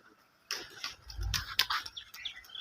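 Pigeons are released from a rooftop with a burst of fluttering wingbeats and a low thump, then scattered flapping and faint chirps, close by after a quiet start.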